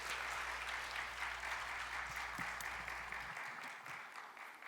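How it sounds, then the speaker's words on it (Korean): Dense, distant-sounding applause from a church youth retreat congregation welcoming a guest pastor, a continuous even wash of clapping over a low room hum that softens slightly toward the end. "박수로 환영하겠습니다."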